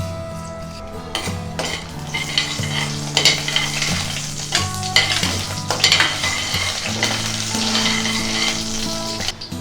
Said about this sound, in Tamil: எண்ணெய் சூடானதும் இப்போ தாளிக்கிறதுக்கு பட்டை, 4 கிராம்பு, 2 ஏலக்காய், 2 டீஸ்பூன் ஜீரகம்.